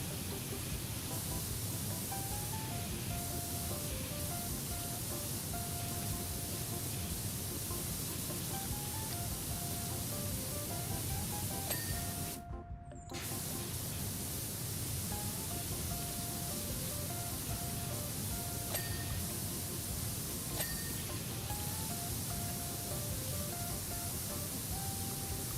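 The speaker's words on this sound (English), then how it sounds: "That gentle white noise ambience." Steady broadband hiss of a pressure washer spraying in the Powerwash Simulator 2 video game, a constant white-noise wash with faint tonal beeps, briefly dropping out midway.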